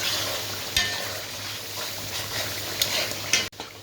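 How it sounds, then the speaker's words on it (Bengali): Small chicken pieces hit hot oil with spices and fry with a steady, close sizzle, broken by a few clinks and scrapes of stirring. "টেস্টের জন্য তেল উপরে বসে গেছে, এখন দিয়ে দেবো মুরগিগুলো"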